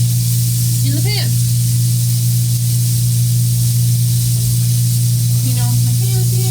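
A portobello mushroom rubbed with pepper sizzles in a hot pan, a loud steady frying hiss over a constant low hum, with brief faint voice sounds.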